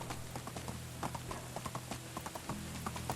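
Horse hooves clip-clopping at a steady walking rhythm in the medieval life-sim game Medieval Dynasty, a continuous run of light, evenly spaced hoof strikes over a low ambient hum, with no talking.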